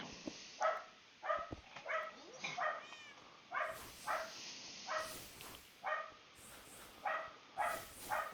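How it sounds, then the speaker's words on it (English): A dog indoors barks repeatedly, frustrated by the neighbours' animals, in short sharp bursts at a fairly steady rhythm, moderately loud and close over a quiet background. "the animals next door is frustrating my dog, so he's noisy"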